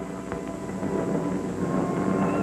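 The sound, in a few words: bomber aircraft engines approaching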